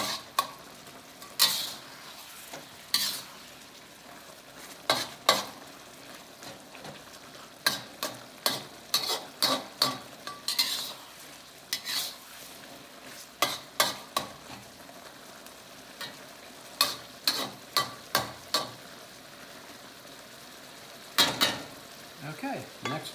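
Chengdu chicken with sugar stir-frying in a pan: a steady low sizzle broken by frequent sharp scraping stirs of the spatula, some in quick clusters, heard close with no talk.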